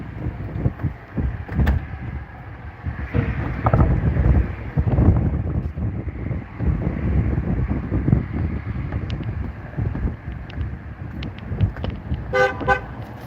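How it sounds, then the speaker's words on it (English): Gusty wind blows outdoors across an open area near a church fellowship hall, a steady broadband rush with microphone buffeting, joined by passing car noise and a short horn toot near the end. "Ooh, the wind's up a little bit."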